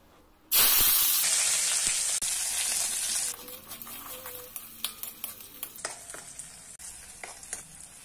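Shallots tossed into hot oil left over from frying papad burst into a loud sizzle that fades into a softer crackling fry with scattered spoon taps.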